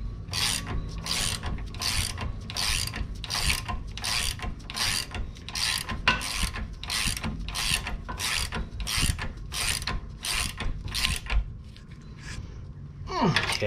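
A ratchet drives a 17 mm nut onto a sway bar link on a 2011 Lincoln MKS, with a rapid, regular series of close mechanical clicking strokes that stops near the end.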